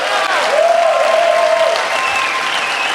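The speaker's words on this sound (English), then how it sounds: "I'd like to have a big round of applause, please, for our committee" A theatre audience applauds a committee with steady, dense clapping that stays loud and even throughout.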